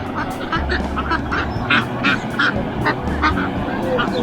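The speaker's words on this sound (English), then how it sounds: "Ducks, seagulls, ducks, more seagulls." A flock of ducks in New Zealand quacks repeatedly in a loose, busy rhythm, fairly close, over a low background hum.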